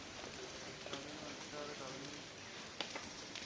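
Steady rain falls in a dense, even hiss throughout, with people talking over it.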